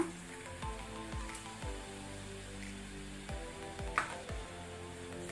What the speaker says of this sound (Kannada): ಈಗ ನಾವು ಇದಕ್ಕೆ ಕೊಕೊನಟ್ ಮಿಲ್ಕ್ ತೆಂಗಿನ ಹಾಲನ್ನು ಹಾಕೊಳ್ಳುವ